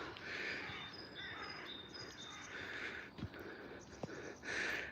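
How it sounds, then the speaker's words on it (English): Birds chirping and calling faintly overhead, short thin tweets scattered over a soft outdoor background, with an occasional louder caw-like note. "Listening to all the birds squeaking just now above us and stuff."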